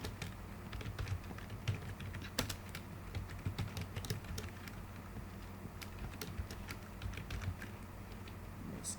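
Fast, irregular keystrokes clatter on a computer keyboard, sharp clicks in uneven bursts over a faint steady background hum, quiet and close, with no voices.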